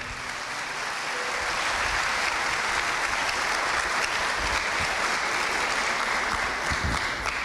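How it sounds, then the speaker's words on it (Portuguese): A church congregation claps together in sustained, dense applause that fills the hall at steady loudness from start to finish, with no talk over it. "Você pode aplaudir ao Senhor nosso Deus?"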